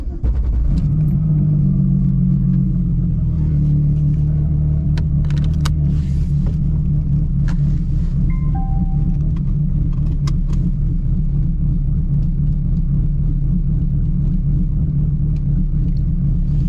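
A car fitted with new 276 camshafts idles and rumbles at night, a deep, loping and steady engine note that stays close and loud throughout, with a few faint clicks over it.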